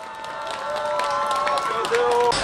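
A crowd claps and cheers at an outdoor presidential campaign rally at Mugeuk market in Eumseong. The applause is mixed with raised voices and sustained tonal sounds and grows slightly louder as it goes on.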